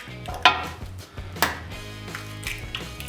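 Eggs for crêpe batter are cracked against a glass, two sharp close knocks about a second apart, followed by softer taps and light clatter.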